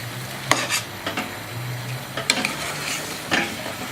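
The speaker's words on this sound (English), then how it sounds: "as you can see, the stew is cooking here" A broccoli and butter bean stew simmers and sizzles in a pot while a spoon stirs it, with several scraping clinks against the pot over a steady bubbling hiss.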